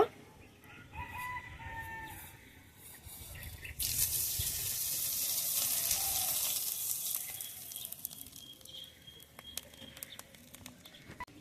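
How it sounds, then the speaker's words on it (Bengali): Black cumin seeds dropped into hot oil left over from frying tel koi fish burst into a sudden loud sizzle partway through that slowly fades, while a rooster crows and chickens cluck in the background before it. "মাছ ভাজার ওই তেলের মধ্যে এখন আমি কিছুটা কালো জিরে ফোড়ন দিয়ে দেব।"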